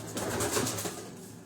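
Pigeons in a rooftop loft cooing softly, a brief low burbling murmur close by and fairly quiet.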